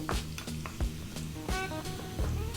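Steady sizzling of onion, celery and garlic frying in sunflower oil over high heat, with occasional clinks and scrapes of a utensil against the pan.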